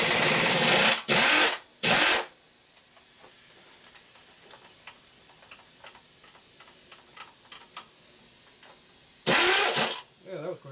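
An air-powered socket tool works on a bolt of a Harley shovelhead motor in a workshop, giving loud bursts at the start and near the end, with quieter ticking and hissing between.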